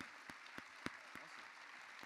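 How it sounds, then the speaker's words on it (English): An audience at the E3 Coliseum gaming event applauds, a fairly faint, steady wash of many hands clapping with a few sharper claps standing out. "Round of applause, please, for Jens there."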